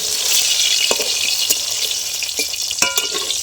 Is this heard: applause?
no